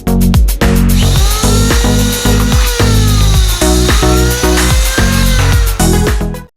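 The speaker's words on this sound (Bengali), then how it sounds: "এখানে ফুটা করব।" A power drill bores a hole through the body of an amplifier built into an old speaker. It makes a very loud, close, grinding whine in repeated surges, with the motor briefly easing between pushes, and no voices.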